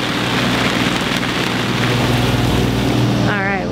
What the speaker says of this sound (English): It was just like a little bit of rain, a little bit of increase in wind.